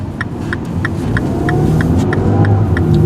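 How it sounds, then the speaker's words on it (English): A small, lightweight 2008 second-generation Mini Cooper engine accelerating, a steady mid-pitched rumble that builds gradually in loudness over three seconds, close and continuous with no talking. "You can hear accelerating."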